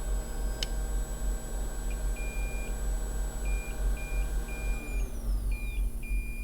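Short electronic beeps from a multimeter checking for a short repeat in an uneven pattern over a steady low hum, fairly faint and close.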